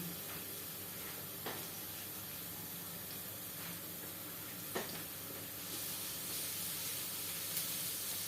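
Garlic sizzling in a hot pan at the start of cooking beef stripes paklay, a steady close hiss with a few faint clinks and scrapes, no talking.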